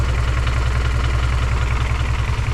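A car engine fitted with a K series manifold idles low and rough with a faint rod-knock, a loud, steady close-up rumble with an uneven pulsing beat and no talking.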